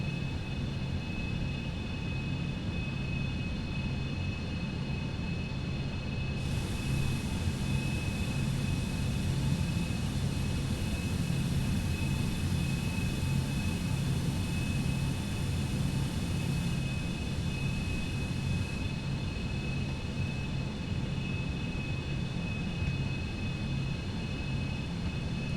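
A Citation X business jet drones steadily in cruise in a flight simulator game, a constant broadband engine roar with a thin high whine running throughout.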